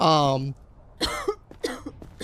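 A character in a video game gives a few short, harsh coughs after a brief stretch of speech, with the coughs coming as separate bursts.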